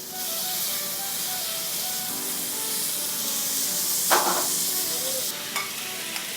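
Red wine splashes into a hot pan of searing filet mignon, raising a loud, steady sizzle and hiss that flares briefly as the liquid hits, with light stirring and clinks near the end.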